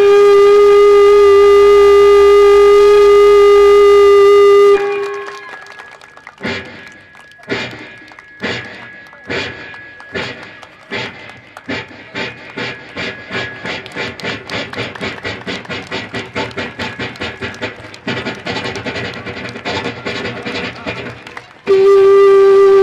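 A man imitates a train with his mouth: a sustained whistle-like tone, then a long run of rhythmic chuffing pulses that speed into a steady chugging beat, ending with a brief tonal blast.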